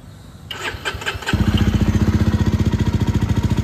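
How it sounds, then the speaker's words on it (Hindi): A 2024 Jawa 350 motorcycle engine cranks with a few electric-starter bursts, then catches and settles into a loud, steady, throbbing idle close by. "तो आइडियली जब स्टार्ट करोगे तो कुछ ऐसा साउंड आएगा"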